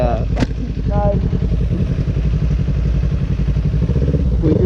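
A 2017 Kawasaki Ninja 300 motorcycle engine idling and revving up close, a loud throbbing drone with a brief rising blip early on, while people talk over it.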